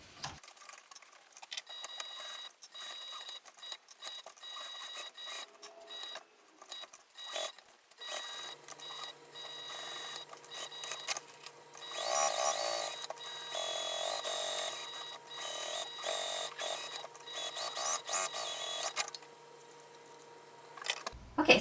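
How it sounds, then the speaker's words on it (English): A sewing machine topstitches around the flap of a Breakthrough Bag, starting with scattered handling noises and then settling into a quiet, buzzing stitching run through the middle, with small stops and starts. "I'm going to stitch all the way around this flap, even the top, to close it up"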